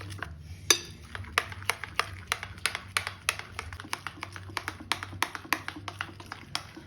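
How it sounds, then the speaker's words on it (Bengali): Dosa batter made with yogurt and a little baking soda being whisked hard in a bowl, giving a quick, regular run of sharp taps and clicks, close up, over a low background hum. "মা জিনিসটাকে ফেটাচ্ছে ভালো করে ফেটালে ধোসাটা ক্রিস্পি হবে"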